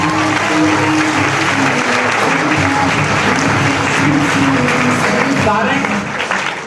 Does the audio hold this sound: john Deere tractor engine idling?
no